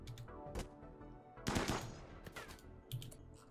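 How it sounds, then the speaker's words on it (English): Gunfire in the video game Rimworld Alpha 16, with rapid crackling shots and bursts layered over a dense, steady game soundscape, and no talk. "Sheppy, fire at this man instead"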